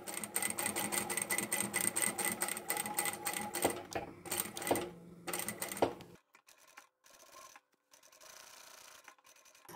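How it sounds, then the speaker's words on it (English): A sewing machine stitches fabric along zipper tape in rapid mechanical bursts of needle clatter, pausing briefly. It then stops, leaving faint handling noises near the end. "And I'll sew as close as I can to the edge of the tape there without sewing over the main fabric, and backstitch."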